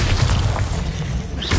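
Bombarda exploding spell blast in a Harry Potter video game, a short, loud, deep boom with rumbling low end and a brief crackling tail.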